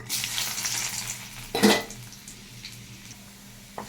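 Dal tempering with dried chillies, radhuni, chopped garlic and onion: a hot sizzle in the pan, a sharp burst of frying near the middle, then a steady fizzing with light utensil clatter and no talking.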